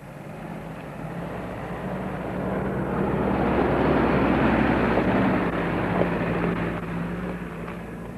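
A Fiat rally car with a Mercedes engine races along a mountain rally stage, its broad engine roar swelling as it draws near, peaking mid-pass, then easing off slightly as it carries on.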